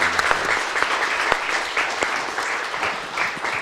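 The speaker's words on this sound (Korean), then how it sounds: "우리 세 분께 우리 특별히 다시 한번 감사의 박수 드리고 시작하겠습니다" An audience at a Korean organisation's anniversary ceremony applauds in thanks, a lively spread of clapping with distinct sharp individual claps standing out over the steady crowd sound.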